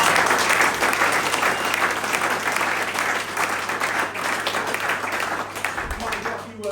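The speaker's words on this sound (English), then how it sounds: "So a big round of applause for that." Sustained audience applause filling a lounge after a thank-you, dense and steady throughout, with a faint voice underneath.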